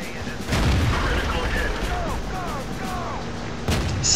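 Tank cannon shots in the World of Tanks video game: two sharp, booming blasts about three seconds apart, the first near the start and the second near the end, with quieter game sounds between them.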